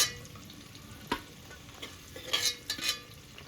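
Masala-coated eggs frying in hot oil for egg biryani, with a soft sizzle and a few stirring clatters and scrapes close by. No one speaks.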